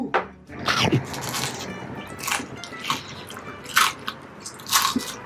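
Crispy German pork knuckle crackles under repeated bites, giving a few loud crunches separated by softer chewing, close up, while a person murmurs briefly in between.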